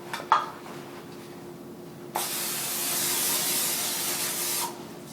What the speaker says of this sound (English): So we're going to spray a pan.